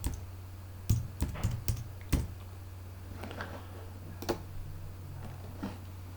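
Keystrokes on a computer keyboard as a new folder name is typed, a quick burst of clicks at the start followed by sparser, lighter taps over a steady low hum.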